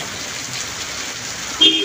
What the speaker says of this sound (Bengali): আসার পরপরই শুরু হয়েছে এই বৃষ্টি